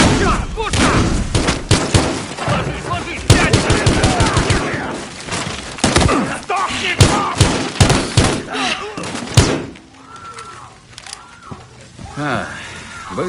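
Rapid bursts of loud gunfire in a video game, many sharp shots in quick succession, then fading into quieter sounds and voices.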